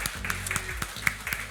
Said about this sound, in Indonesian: sekali lagi kita beri tepuk tangan untuk Kang Didi.